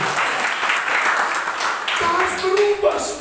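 A church congregation breaks into steady applause during a sermon, a brief, even wash of clapping with a voice starting to come through near the end.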